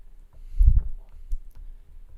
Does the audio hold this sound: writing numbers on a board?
yes